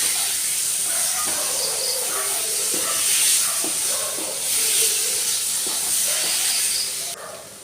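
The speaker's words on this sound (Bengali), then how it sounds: "আমি অন্য পাত্রে যে গরম জলটা রেডি করে রেখেছিলাম, তো ওখানে আমি ঢেলে দিচ্ছি মশলাতে" Hot water poured into a sizzling spice masala for a pabda fish curry gives a loud, steady hiss that holds for the whole stretch, with no talk.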